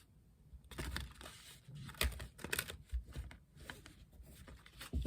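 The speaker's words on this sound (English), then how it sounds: "So I'm shuffling first." Tarot cards are shuffled by hand at close range, soft papery riffles and flicks in uneven bursts after a quiet start, crisp and fairly faint with no voices.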